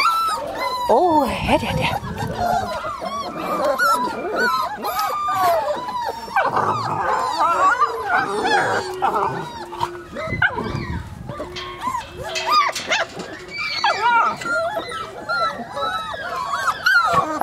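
Puppies whimper, yip and bark outdoors on a cold day near kennel dogs, with high whines and short barks scattered throughout while people talk over them close by.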